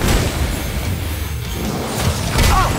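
A loud, dense explosion from the 2013 video game DmC: Devil May Cry, Mission 17, a heavy booming crash that fills the whole span with broad rumbling noise and swells again near the end.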